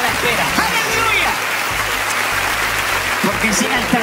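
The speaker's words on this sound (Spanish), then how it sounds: "Den un aplauso fuerte si de verdad creen que hoy se termina la espera." A church congregation applauds loudly during a Spanish-language sermon, a dense, steady wash of many hands clapping that continues without a break for the whole stretch.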